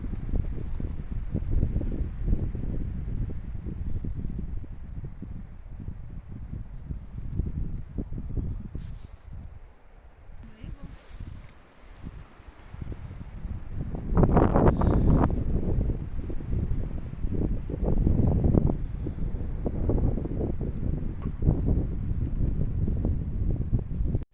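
Steady gusty wind on a mountain buffets the microphone, roaring louder in the second half with a brief lull in the middle.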